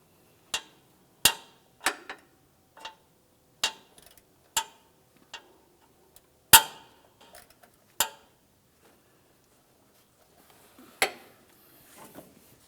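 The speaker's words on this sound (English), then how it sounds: "we're going to remove the clamps that hold the hoses to the lines" Hose clamps are worked off the power steering pressure lines of a 2004–2015 Nissan Titan, giving sharp, isolated metallic ticks and clanks at irregular intervals, close up, with near silence between them.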